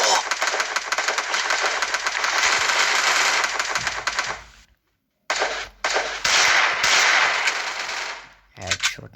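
Gunfire from a pistol in the Free Fire Clash Squad video game: loud, dense bursts of rapid shots filling the first half, a brief silent gap, then more shots and clatter.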